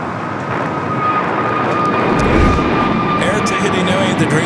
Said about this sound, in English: Japan Airlines, the Dreamliner, coming from Tokyo Narita, making its way over to the gates